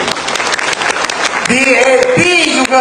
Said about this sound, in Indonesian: Tepukkan kepada UMNO.